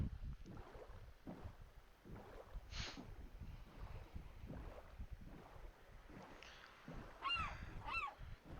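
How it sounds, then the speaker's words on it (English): Seagulls in Minecraft ocean and beach biomes call faintly a few times near the end over soft wind and ambient game sound, with no talk. "the seagulls are quite prominent in the ocean biomes and the beach biomes."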